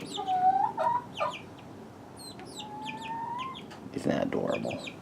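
Backyard chickens cluck and squawk in a series of close, bright calls, with a few short bursts and a sustained note rising over quiet yard ambience.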